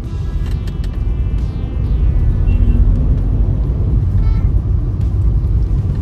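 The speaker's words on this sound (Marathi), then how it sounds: "ट्रॅफिक जाम केली पाठीमागे" Congested road traffic on a city street where an auto-rickshaw has come the wrong way, with a steady low rumble of idling and creeping vehicles close by and faint horn-like tones above it, no talking.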